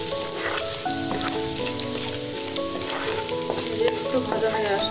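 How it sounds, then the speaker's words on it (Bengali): Chopped ginger and garlic fry in oil for a chickpea dish, giving a steady, close sizzle with occasional light clinks from stirring. "একটু ভাজা হয়ে আসছে, দেখতেই পাচ্ছেন আদা রসুন লাল হয়ে গিয়েছে"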